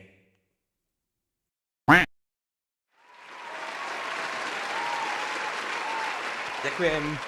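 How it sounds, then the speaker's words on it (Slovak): Audience applause swells in after a brief silence and a short voiced sound, then holds as a broad, steady wash of clapping with a voice briefly near the end. "Ďakujem krásne za potlesk."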